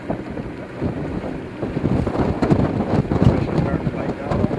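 Wind gusts over open water during a fishing trip by boat, a steady roaring rush buffeting the microphone with rising strength and no voices.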